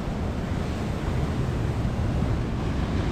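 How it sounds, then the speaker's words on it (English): High waves crash onto the rocky shore of Anjuna beach in Goa, a loud, continuous roar of surf with wind rushing into the microphone and no voices. "The current waves are so high."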